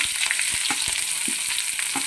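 Hot oil sizzles steadily as onions fry after popped mustard seeds, close and loud, with a few soft knocks from a stirring utensil.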